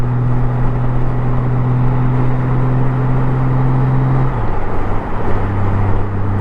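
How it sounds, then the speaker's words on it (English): Motorcycle engine on a highway, a loud steady drone whose pitch drops partway through as the rider downshifts, then settles lower, with wind rush throughout. "I'm going to downshift"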